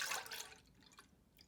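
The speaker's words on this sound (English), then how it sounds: "First, you'll pour your milk and butter into a bowl." Milk and melted butter poured into a bowl for pancake batter, a brief quiet splash of liquid followed by a few faint drips, close by.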